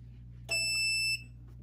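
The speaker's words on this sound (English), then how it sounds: "It's going to count down and it's going to beep after 8 seconds." A single sharp electronic beep from a heat press timer, high-pitched and piercing, lasting just over half a second over a low background hum.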